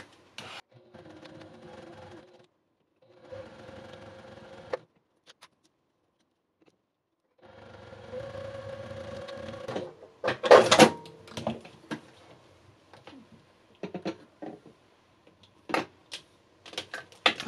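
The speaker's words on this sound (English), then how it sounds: "Okay, and then I'm going to sew this side." Sewing machine stitching along the side of a fabric scissor case, running in several short bursts with pauses between, followed by clicks and handling noises near the mic.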